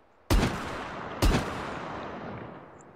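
Two loud, close shotgun blasts in a VR shooting game, about a second apart, each a sharp crack trailing into a long decaying echo, with no talk.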